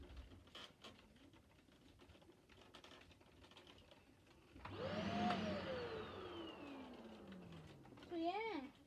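A vacuum cleaner starting up indoors, its motor whine rising sharply then slowly falling as it runs down, loud and close over earlier keyboard typing clicks, with a voice briefly heard near the end.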